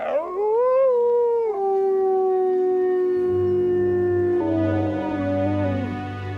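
A lone wolf in a winter forest howls in long, rising and sustained tones, with a second howl layered in partway through and a low rumble beneath, loud and clear with no talk.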